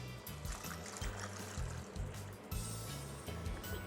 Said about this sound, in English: And then I'm just gonna add 2 cups of water.